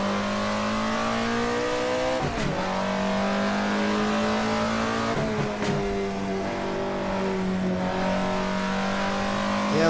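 A car engine strains to gain speed in Assetto Corsa at Laguna Seca, an old-school pony car running up to about 6,000 RPM, a loud continuous engine drone with a couple of sharp shift dips between steady rising pulls, with no voices.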